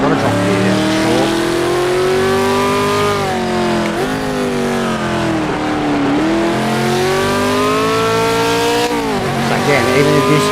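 A race car with a GT Icons model in a racing video game downshifts through a corner, its loud engine note sliding up and down in pitch with sharp blips between gears, steady and close.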